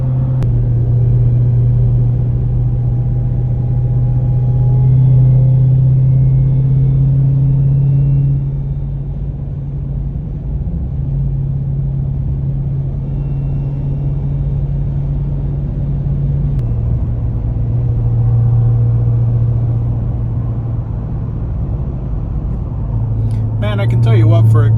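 A Dodge Demon 170 drives a mountain road, its engine a loud, constant low drone with shifts in pitch as the load changes and a brief rattle near the end, no voices.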